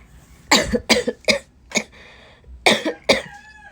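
A fit of several sharp coughs, close to the mic, in two clusters separated by a short pause, with raspy breaths between.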